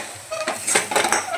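Red chilli powder and spice mixture being stirred with a metal spoon in a cooking pot, giving close, irregular scraping and clinking of metal against metal.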